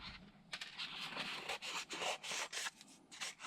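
Sanding a part off the body of a Kronos XTR RC car, a rasping, scratchy grind that comes in repeated bursts of rubbing, fairly loud and close with no talk over it.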